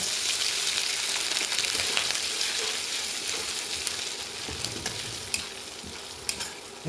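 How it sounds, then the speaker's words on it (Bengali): Garlic and ginger sizzle in hot oil, a steady crackling hiss with occasional sharp pops. "তেলের মধ্যে এক এক করে রসুন কুচানো দিয়ে দিলাম। এবার আদা দিয়ে দিলাম।"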